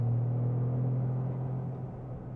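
Steady low engine drone from a 2025 Toyota GR Corolla under way, a constant loud rumble heard from inside the car with no talk.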